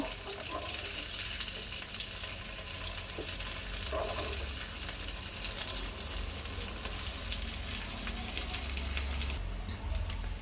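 Onions and capsicum being lightly fried for pulao, with a constant dense sizzle and faint stirring scrapes, close and even throughout, no voices.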